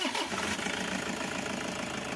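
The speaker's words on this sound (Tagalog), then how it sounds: "Patayin ko pa ulit itong makina niya. Tapos start ko ulit yan." A Toyota HiAce van engine, just serviced after struggling to pull due to dirt, turns over and settles into a steady, rumbling idle close by, with a continuous vibrating hum.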